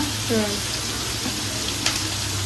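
Onions sautéing in a pan for sundakkai kuzhambu give a steady, close hiss of frying, with a brief voice sound near the start.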